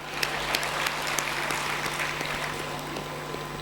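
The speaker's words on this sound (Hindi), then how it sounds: "जोरदार तालियां।" Audience applause during a spiritual discourse, a short burst of steady clapping with a few sharper claps standing out, moderately quiet under a faint hum.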